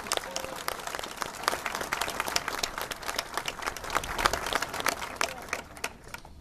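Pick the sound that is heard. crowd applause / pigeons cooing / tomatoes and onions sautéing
crowd applause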